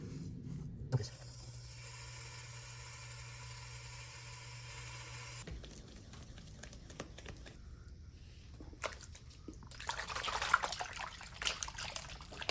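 Water sloshes and trickles steadily with light gritty swishing as fine gold ore is panned, a continuous wet churning that grows busier and brighter toward the end.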